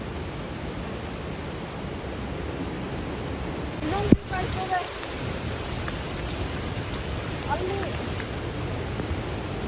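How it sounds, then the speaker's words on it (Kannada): Steady monsoon rain pours over the forest on the Dudhsagar waterfalls trek. The broadband hiss is constant throughout, with one sharp knock near the middle and brief faint voices. "ಬಟ್ ಮಳೆ ಬರ್ತಿದೆ, ಅಷ್ಟು ಕಾಣಿಸ್ತಾ ಇಲ್ಲ."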